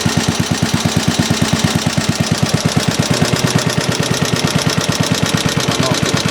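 A small Briggs & Stratton 5S single-cylinder engine runs just above idle while driving a generator, its steady loud thumping pulses close and even throughout, with a metallic rattle layered on top.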